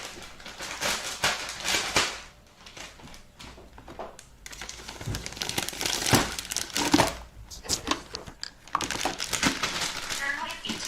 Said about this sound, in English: Put it into like a Ziploc or whatever.